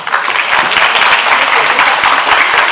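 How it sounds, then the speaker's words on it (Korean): An audience at a university book talk applauds steadily, a dense wash of many hands clapping at even loudness throughout. "큰 박수 부탁드립니다."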